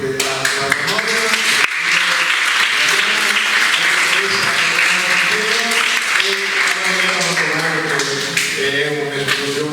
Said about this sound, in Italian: Io faccio un applauso personale a Manella